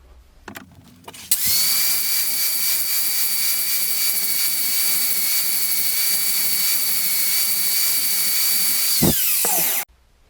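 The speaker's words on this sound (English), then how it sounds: "we're just going to dust the top of this with the grinder" An angle grinder starts up with a sharp whine and grinds metal steadily for several seconds before cutting off abruptly; no talking.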